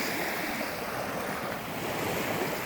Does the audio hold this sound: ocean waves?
yes